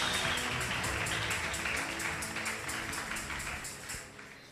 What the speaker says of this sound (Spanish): Un aplauso fuerte al Señor Jesús.